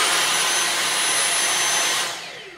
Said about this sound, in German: dass der Staubsauger, dieser Akkustaubsauger, etwas laut ist. Wenn wir jetzt mal hören.